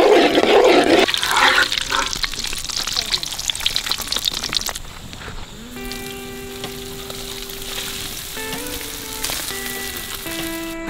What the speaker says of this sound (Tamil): நெய் நல்லா சூடாயிடுச்சு. 1/4 கிலோ முந்திரி போட்டுக்கலாம்.